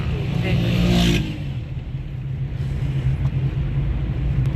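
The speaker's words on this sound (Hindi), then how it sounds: "गाड़ी हमारी पहुँच गई है।" A car pulls up at Monal Point near Islamabad, its engine rumbling loudly at first and then easing into a steady low idle that continues throughout, with outdoor ambience and no clear talk.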